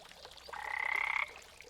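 A single frog croak, a short buzzy rasp lasting under a second, close and fairly soft against a quiet background.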